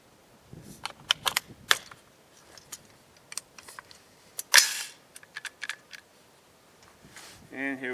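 300 Blackout rifle firing Deer Season XP ammunition at about 50 yards over a chronograph, sharp distant cracks scattered among lighter clicks and ticks, with one louder report standing out midway.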